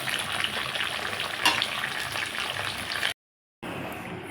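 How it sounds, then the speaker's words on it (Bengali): Pabda fish frying in oil in a wok, a steady dense sizzle with a brief louder burst midway, then a short drop to silence before the sizzling resumes. "মাছটা আমি ভাজা নিতেছি।"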